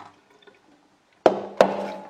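Tap water bursts on and rinses the Hurom H320N juicer bowl after a near-silent start: two sharp splashes followed by a steady, close rushing stream.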